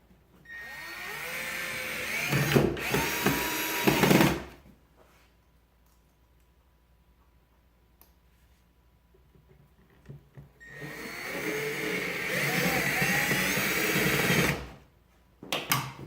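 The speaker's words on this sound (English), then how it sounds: "Now we add a couple screws in the side holes." A power drill driving a couple of screws through the side holes of a mantle fitted into an alcove, two loud whirring bursts of about four seconds each separated by a quiet pause.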